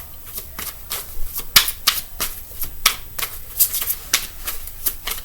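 A tarot card deck is shuffled by hand, making a quick series of crisp riffling snaps and flutters in an uneven rhythm, close and fairly loud, with no one speaking.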